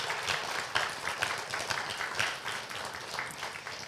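Audience applause at a church leadership conference, a steady wash of clapping from a crowd that holds at a moderate level for several seconds.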